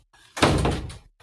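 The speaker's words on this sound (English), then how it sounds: "Let me close this door." A door being closed indoors, one loud close with a rushing swing and solid thud that quickly dies away, followed by a faint trailing knock, no talking.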